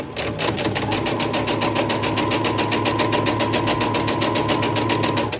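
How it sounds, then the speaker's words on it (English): Sewing machine stitching steadily along a fabric edge with a quarter-inch foot at stitch length 2, a loud continuous rapid rhythmic whir without pauses. "now I'm just going to sew along the edge, and I'm still using my 1/4 inch foot"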